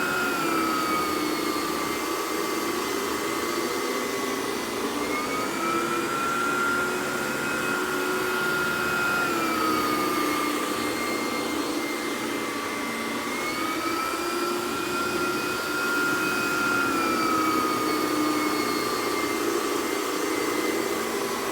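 A Vacuflo central vacuum powerhead, TurboCat or T21, runs steadily over worn carpet, its loud continuous whine rising and falling slightly as it sweeps back and forth, with no talk.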